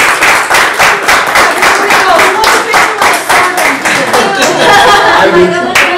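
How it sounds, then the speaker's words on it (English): A round of applause at a fireside chat event, with a smaller group clapping loudly and close, individual claps distinct in a rapid steady rhythm, with some light voices and laughter mixed in. "So you give him a round of applause."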